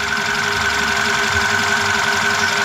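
A 2007 Skoda Fabia with a check-engine light and misfire codes idles evenly, giving a close, constant mechanical hum with a steady whine layered over it and no voices.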